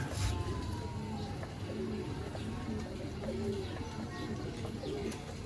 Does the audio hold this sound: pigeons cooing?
yes